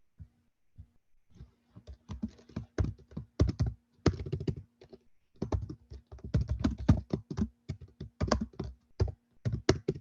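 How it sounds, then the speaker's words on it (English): Keys clattering on a computer keyboard during an online community meeting, close and crisp, in quick bursts of rapid strokes broken by short pauses, with a faint steady hum underneath and no speech. "While we're typing this up"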